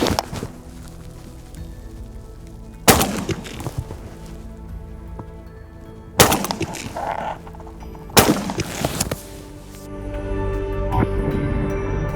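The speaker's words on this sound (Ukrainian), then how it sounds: "Зараз 150 грамів полетить у напрямку мішені" Three loud blasts from a shotgun firing buckshot at a paper target, spaced a few seconds apart, each with a sharp crack and a ringing echo that fades out over a quiet outdoor background.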